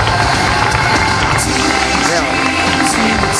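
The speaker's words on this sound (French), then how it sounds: "Et c'est applaudi dans la salle Louis Blasé" A large audience in a hall during a fashion show claps and cheers continuously, a dense, loud wash of applause throughout with voices mixed in.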